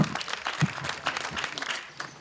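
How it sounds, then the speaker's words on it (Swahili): Guests at a primary school classroom handover applaud to welcome a Safaricom representative, a soft, somewhat distant spatter of clapping with a low voice briefly audible in the mix. "Tumkaribishe kwa makofi tafadhali."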